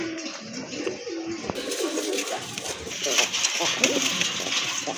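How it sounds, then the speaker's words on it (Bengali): Pigeons coo softly in repeated low phrases, among them a large bright red male pigeon, while someone talks over them throughout. "হিউজ সাইজের একটা রাজগোল্লার নর কবুতর দেখতে পাচ্ছেন, টকটকে লাল কালারফুল একটা নর কবুতর"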